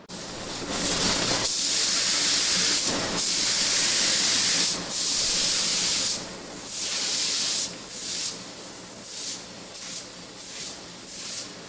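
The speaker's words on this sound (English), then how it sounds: "So we're getting ready to spray the second coat." Spray gun hissing out a wet second coat of automotive base/clear paint onto a motorcycle engine at home, long steady bursts broken by brief pauses, then shorter intermittent passes toward the end.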